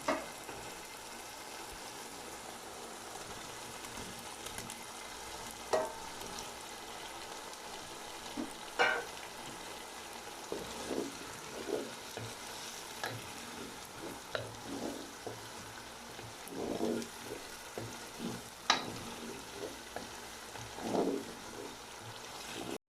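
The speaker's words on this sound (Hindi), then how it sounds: "अब मैं इसमें कोफ्ते डाल दूँगा।" Mutton koftas going into a pot for kofta dum biryani, a soft, steady frying sizzle with scattered scrapes and taps of stirring, fairly quiet and with no voices.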